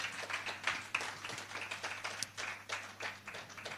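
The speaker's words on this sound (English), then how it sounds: "Keep clapping as she walks onto the stage." An audience at a youth panel discussion in Ghana claps in scattered, uneven bursts as a panelist walks onstage, fairly faint and distant with individual claps audible.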